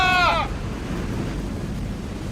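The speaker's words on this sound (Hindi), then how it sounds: "समुद्री लहरें इतनी ऊपर उठकर हमारी तरफ आ रही हैं।" Large sea waves crash in a storm in an animated film, a loud, continuous roaring surge that follows a brief, high, bleating cry at the start.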